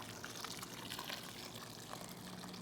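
Hot water at 190 degrees poured over broken-up cheese curds for scamorza, a continuous soft gushing and splashing that holds steady throughout at low volume.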